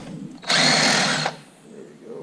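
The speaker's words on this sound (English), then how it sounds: "let's do it with the drill" A power drill loosens a bolt on a Toyota Camry engine, one close, loud whirring burst lasting under a second, with quiet shop noise before and after.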